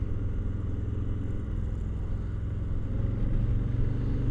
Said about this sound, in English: You do feel an engine running there.